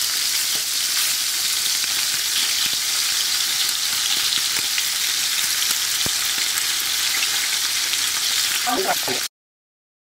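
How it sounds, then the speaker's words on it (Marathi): Prawns frying in oil in a pan for Goan prawn pickle make a dense, loud, steady sizzle that runs unbroken for about nine seconds, then cuts off abruptly. "सगळी प्रॉन्स आमी हीच फ्राय करूया."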